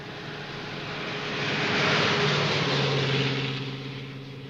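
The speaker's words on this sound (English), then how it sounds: "Could that be the plane that he runs away from?" A propeller airplane passes overhead in the 1959 film North by Northwest, its engine drone swelling to a loud peak midway and then fading, with no voices.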